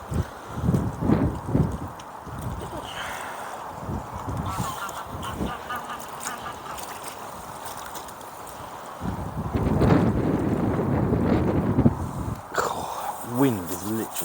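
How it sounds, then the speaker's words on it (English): Strong side wind buffets the microphone at a big fishing pit where bream are targeted, a rough low rumble swelling in gusts, loudest around the middle-to-late stretch, with birds faintly calling in the background. "Wind is literally going right through me at the moment, even with this coat on."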